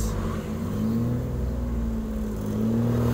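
Car engine revving up as the accelerator is pressed during a driving lesson in slow stop-and-go traffic, a steady loud low rumble with a rising tone that holds throughout.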